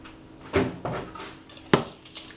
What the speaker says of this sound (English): And then you're going to just crack another egg in there.